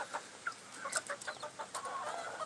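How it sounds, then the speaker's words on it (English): Orpington and Bantam chickens cluck in a backyard flock, a quiet run of short, overlapping clucks and soft calls, close by and with no voices over them. "These big ones are Orpingtons, and then the other ones are Bantams."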